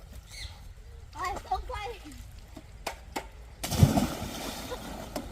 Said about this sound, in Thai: เล่นได้แต่ว่าอย่าเอาหนะสาดน้ำเข้ากันมันจะเข้าหูเข้าตาลูก